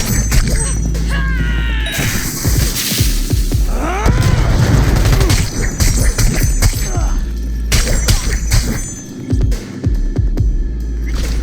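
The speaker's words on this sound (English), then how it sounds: "Taking fire!" Gunfire in the video game Cyberpunk 2077: dense, loud bursts of shots and impacts with booming crashes, continuous throughout a tense firefight with a rumbling underlying hum.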